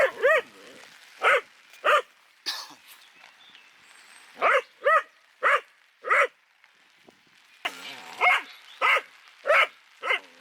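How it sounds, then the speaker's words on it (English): A dog barks in short, sharp bursts, close and fairly loud, in irregular clusters of two to four barks separated by quiet gaps. "Why are you barking?"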